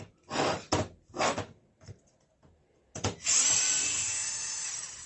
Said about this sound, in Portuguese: Tirei o parafuso completamente e vou apertar agora.